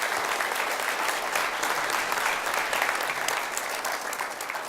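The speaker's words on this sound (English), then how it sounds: "I want you to give them, representing their whole team, a round of applause" A large audience gives a round of applause for a team at a space exploration talk, a dense, even wash of clapping that holds steady throughout and never dies away.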